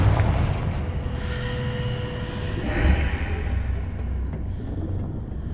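Confringo blasting curse in Hogwarts Legacy gameplay, a steady rumbling explosive roar with a swelling burst near the middle, set against continuous game ambience and no voices.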